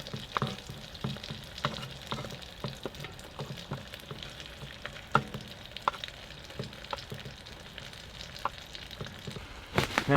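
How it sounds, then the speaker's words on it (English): Onion and garlic sizzle and fry in a pan on a large woodstove at an overnight campsite, with a constant soft crackle punctuated by frequent stirring scrapes and clicks, close but fairly quiet, with no talk. "Onion and garlic to go in."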